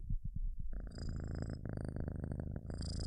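A close, rhythmic cat purr rumbles steadily, broken by soft breathy pauses, loud and intimate as if right beside the listener.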